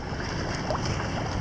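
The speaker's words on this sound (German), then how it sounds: "Auflandiger Wind, Welle." Strong onshore wind and waves buffet a boat at a rough anchorage off Pitcairn. The result is a loud, continuous rushing roar with wind noise on the microphone and no pauses.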